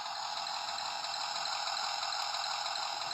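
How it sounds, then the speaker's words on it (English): A toy laser battle tank idling through its small speaker, an electronic engine drone that stays steady and even at moderate level, with no other sounds alongside. "They have idling noise."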